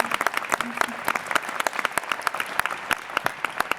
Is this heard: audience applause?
yes